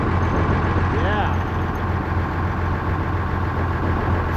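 A motorcycle engine idles smoothly and fairly quietly at a steady rumble, heard close and continuous throughout, with a person speaking briefly over it.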